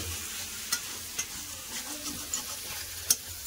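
Cauliflower, egg and potato curry being stirred and sautéed in a pan, a soft continuous sizzle broken by a few sharp scrapes and clicks of the spoon against the metal, close and with no voices.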